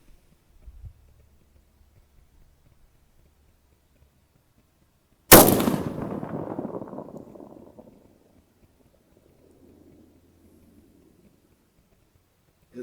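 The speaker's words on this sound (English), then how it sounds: "So let's try and hit it on our third shot" A single rifle shot cracks loudly during long-range ranging practice out to 800 yards, its sharp report followed by a rolling echo that fades over a couple of seconds, surrounded by near silence and no voices.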